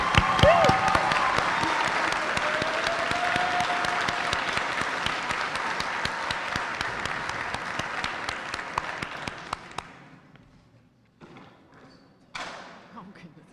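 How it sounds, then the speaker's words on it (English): Audience applause for spelling bee finalists at a county spelling bee, a steady clapping crowd for about ten seconds that fades out, followed by a few faint thumps and a brief final burst of claps. "Let's give our finalists an extra big applause."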